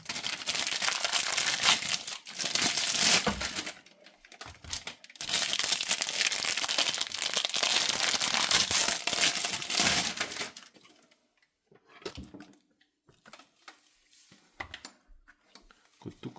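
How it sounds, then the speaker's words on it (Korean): Plastic film peeled and stripped off a post-carbon water purifier filter cartridge during a filter change, a loud crinkling, crackling stretch for about ten seconds, then quieter intermittent rustles and crinkles near the mic. "일단 비닐을 다 벗겨주시고요."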